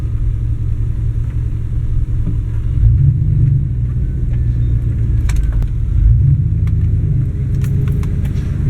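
Cars sit backed up in traffic, giving a loud, continuous low engine rumble close by that swells slightly twice as vehicles creep forward, with faint clicks and rattles above.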